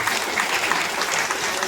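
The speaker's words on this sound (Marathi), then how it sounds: "त्यांना पण टाळ्या द्यायला पाहिजे." Dense, steady applause from an audience at a live devotional song and abhang programme in Pune, many hands clapping at once with no pauses throughout the short stretch.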